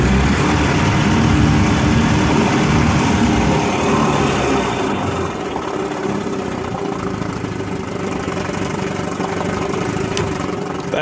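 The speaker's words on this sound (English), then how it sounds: "in this motor, these coils seem to idle pretty well. I'm happy with the idle." A 1956 Evinrude Fastwin 15 hp outboard motor idles steadily during a pond test, giving a loud, continuous, close-up two-stroke rumble that holds level for the whole stretch, with no talking.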